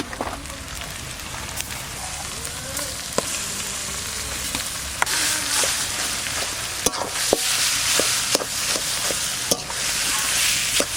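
Green jackfruit and potato mixture with chopped onion, crushed ginger and garlic frying in a pan, a loud, continuous sizzle with scattered crackles and scraping stir clicks, close by and without talk.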